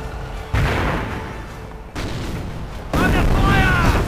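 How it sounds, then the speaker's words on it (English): Mortar fire in a real-time strategy game's 2v2 match, including an incendiary round, comes as heavy, dense booms and rumbling blasts that fill the clip, with a commentator's voice running underneath. "Direct hit from that mortar."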